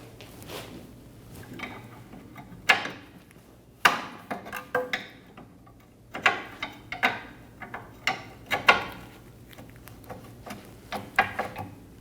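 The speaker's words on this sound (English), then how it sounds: "Using an 18mm wrench, we're going to loosen the nut for our lower control arm bolt." An 18mm wrench loosening the nut on a lower control arm bolt of a 2012-2022 Volkswagen Passat during rear shock replacement: a series of sharp metallic clicks and knocks, irregular and close, over a quiet background hum.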